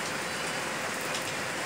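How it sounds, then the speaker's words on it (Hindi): A brief stretch of heavy rain in chilly early-winter weather, a steady, close, unbroken wash of falling water with nobody speaking. "देखिए माशाल्लाह बहुत तेज़ बारिश है"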